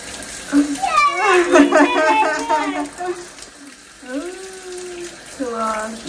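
Water runs from a tap into a sink as a steady hiss beneath a child's and adult's voices talking over it.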